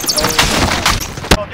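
Rapid gunfire in the video game Call of Duty: Modern Warfare, loud close bursts of shots with a sharp final crack near the end, played over game audio with a voice speaking briefly.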